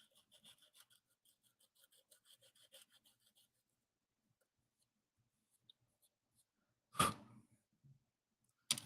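A sanding stick rubs over putty on a scale model in quiet, short dry rasping strokes up close, trailing off into silence before one louder scrape near the end.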